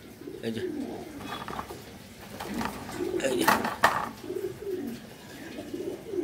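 Giribaz high flyer pigeons coo in soft repeated low rumbles around a loft, with someone talking briefly over them and a faint metallic clink.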